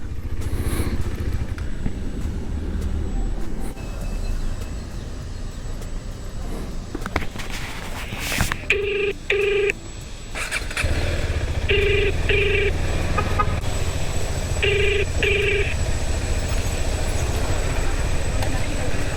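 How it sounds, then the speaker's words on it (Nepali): A phone rings in repeated paired electronic bursts over a loud, steady motor rumble from a motorcycle being ridden. "कसले कल गऱ्यो फेरि यार"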